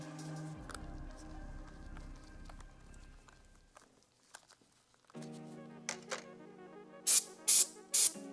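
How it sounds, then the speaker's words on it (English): Three short, sharp hisses of silicone aerosol spray burst into a car throttle body hose in quick succession near the end, following a stretch of tonal hum and small clicks. "spray in a bit of either silicone spray or maintenance spray just to help aid the fitting of"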